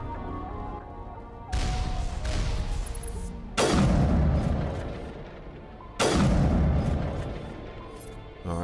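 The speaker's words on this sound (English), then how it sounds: "we've got a few cannons up ahead." Cannons fire in the sci-fi video game Mass Effect: three heavy booming blasts roughly two seconds apart, each with a loud sudden onset and a long rumbling decay, and no talking.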